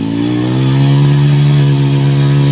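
A motorcycle engine drones loud and close, its pitch climbing slightly as it accelerates in a steady sustained roar.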